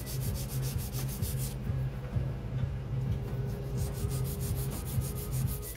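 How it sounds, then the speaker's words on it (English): Close, continuous back-and-forth rasping of a 240 grit file straightening the side of a gel nail, in quick regular strokes with no voices. "I'm going to take a 240 grit file and I'm going to get that side nice and straight."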